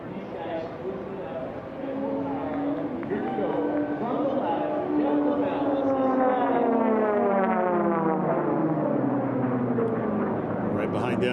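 A racing aircraft flies at about 400 mph in a sport-class air race heat. Its engine drones continuously and grows louder, with the pitch sweeping as it passes, while a voice talks over it.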